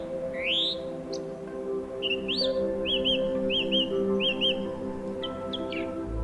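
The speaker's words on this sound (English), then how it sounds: "the growing hum of insects and the song of birds echoing across the levels of the canopy" Birdsong rings through a forest canopy: repeated rising whistled calls and chirps from several birds, some near and some distant, over a steady hum of insects.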